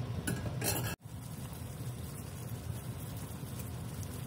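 Chunks of meat for afritada are stirred in a hot pan, giving a steady, close sizzle and scraping without pause after a brief sharp break near the start.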